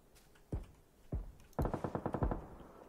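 Video-game gunfire in a Fortnite-style battle royale match: two single shots, then a rapid burst of about eight automatic rounds, loud and close with no talk.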